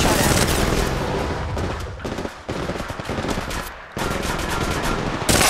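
Rapid automatic gunfire in the Apex Legends Mobile shooter, loud bursts of shots with brief gaps between volleys, close and dense, with no talk over it.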